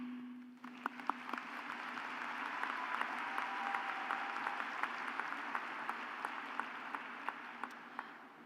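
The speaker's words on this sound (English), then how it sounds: "Please join me in a final round of applause for guests, faculty, administration," A large audience claps through a final round of applause at a TTUHSC School of Nursing commencement ceremony, a dense, sustained roar of hands with sharp individual claps standing out near the microphone.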